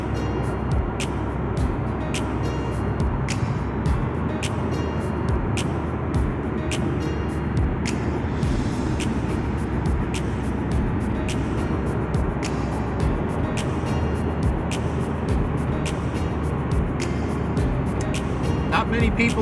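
A car drives along an early-morning road toward Paris, Texas, its tires still warming up. A steady roar of tire and wind noise runs unbroken throughout, with scattered light clicks and ticks over the top.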